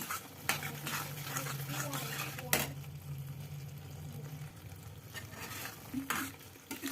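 Lauki halwa with dry fruits and raisins is stirred in a pan: a steady, close scraping and soft sizzle with a few sharper spoon knocks against the pan, and no voices.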